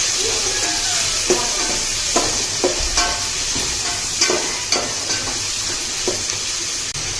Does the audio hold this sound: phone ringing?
no